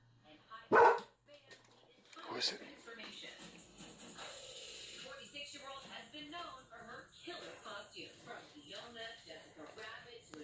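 A dog barks sharply once near the start, then again more softly, followed by speech and movement noise over the rest of the passage.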